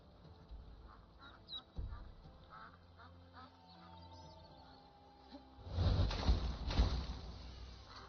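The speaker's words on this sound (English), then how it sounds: "Let's get away from this noisy bird." Bird calls in the video game Skyrim, around Riften: a scatter of quacking, duck-like calls, then a louder, denser burst of calling close by near the end.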